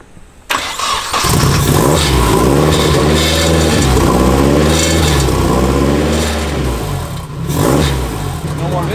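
Turbocharged MK6 VW GTI engine catching and revving hard, a loud close roar that rises and falls in pitch with slight breaking up, while people talk over it.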